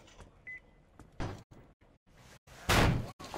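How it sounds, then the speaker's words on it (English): A door shoved open in Metro Exodus, with several heavy thuds and scrapes and a loud final bang as it gives way, close and without speech. "The door's giving! Let's give it a shove"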